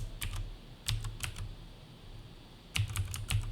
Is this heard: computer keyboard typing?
yes